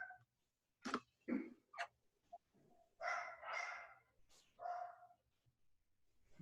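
Dogs barking in a string of irregular yelps and barks, fairly close, some sounding mixed with rooster-like calls, with no talk over them.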